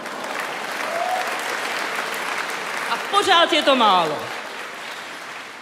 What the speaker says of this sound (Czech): No potlesk, prosím